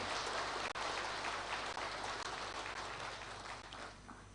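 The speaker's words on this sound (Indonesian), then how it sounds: "Tepuk tangan yang meriah untuk beliau." A large indoor audience at a formal government address for Indonesia's President Prabowo Subianto breaks into dense, sustained applause that holds steady and then slowly tapers off.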